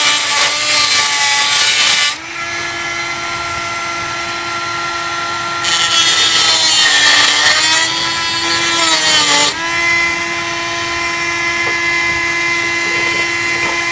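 A hand saw cuts through PVC pipe for a prop skeleton hand, making a loud, steady rasping drone that runs almost without pause and shifts in tone twice as the stroke changes.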